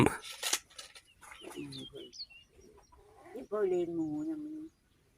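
Chickens cluck and coo in a rural yard, with short squawks and a drawn-out call near the end, mixed with people talking nearby.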